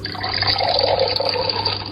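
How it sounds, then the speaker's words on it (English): Water being poured as a toy's sound effect, a short steady splashing and trickling flow, close and moderately loud, alone without talk. "To pour, you make something like water flow."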